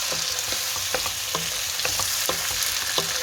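Tomatoes sautéing in a pan for tomato rice, a dense, even sizzle with regular spoon taps and scrapes every half second or so, close and alone without voices.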